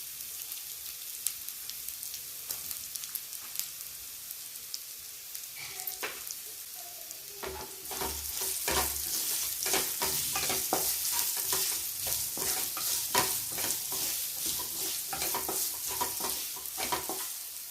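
Onions fry in a hot pan, quiet at first, then a loud, dense sizzle sets in with repeated scraping stirs and nobody talking.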